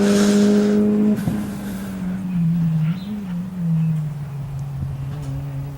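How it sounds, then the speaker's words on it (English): Race car at a national Mitsubishi Evolution shootout, brakes squealing while cornering, with a loud engine note dropping as it slows through the turn and a brief high squeal amid the steady motor drone. "you can hear those brakes squeal"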